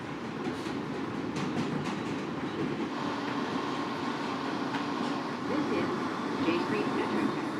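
A subway train runs on its tracks underground, a steady, loud rumble and rattle that holds for the whole stretch and swells slightly toward the end, with faint voices underneath.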